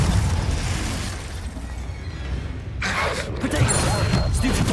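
A Confringo blasting spell bursts in Hogwarts Legacy, a crackling explosive flare rising over steady rumbling game combat noise.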